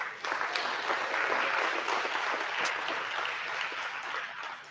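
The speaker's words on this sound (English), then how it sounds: "Round of applause, Richard." Sustained applause fills an awards ceremony hall, a steady dense patter of many hands clapping at moderate loudness throughout, with no voices over it.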